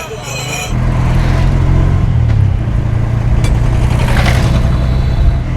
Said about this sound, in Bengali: উঠে পড়েছি অটোতে